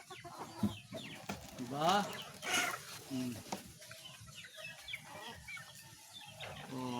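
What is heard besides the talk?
chickens clucking on a farm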